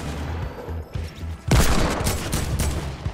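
Gunfire in the Fortnite video game, a burst of rapid shots erupting loudly halfway through after quieter game ambience, followed by continued crackling fire.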